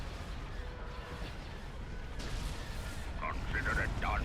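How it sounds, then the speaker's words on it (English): Laser cannons firing during a space battle in a Star Wars: Empire at War mod, rumbling booms and blasts layered over a dense battle din, with brief tonal game voice chirps near the end. "Open fire on those laser cannons."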